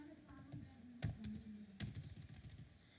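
Code being typed on a computer keyboard, scattered sharp key clicks and a few louder strikes in irregular bursts, heard close over a faint background hum.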